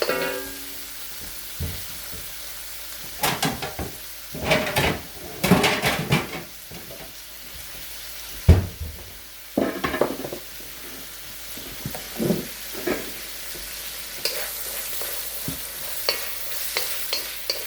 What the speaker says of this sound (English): Saute it so that the string beans absorb that flavor. Just quick stir.